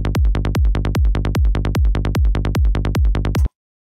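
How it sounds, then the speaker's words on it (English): A rendered electronic kick drum and bass track pounds out a steady, fast pattern of punchy hits, loud and close, alone until it cuts off abruptly. "I've got here a rendered kick and bass from my track"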